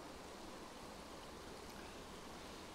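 Flowing water of the River Hindburn on a winter walk, a steady, even rush of a stream that stays constant and fairly faint throughout with no voices.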